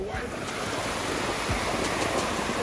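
Ocean surf at a beach rolls in as a dense, continuous wash of breaking waves, loud and close, with wind buffeting the microphone and no clear talk.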